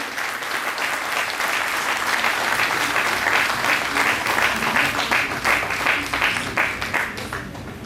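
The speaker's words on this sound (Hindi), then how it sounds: "जोरदार तालियां बजाकर" Sustained, loud audience applause fills a ceremony honouring the families of freedom fighters and martyrs, dense clapping continuing steadily throughout without a break.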